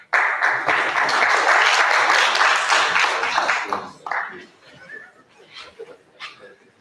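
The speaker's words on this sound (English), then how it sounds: "Let's give Prof another round of applause" Steady applause from a conference audience at a university social media event fills the first four seconds, then thins into scattered claps and murmuring voices.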